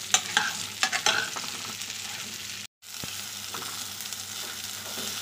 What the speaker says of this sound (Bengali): ঝিঙেটাকে নেড়ে নিচ্ছি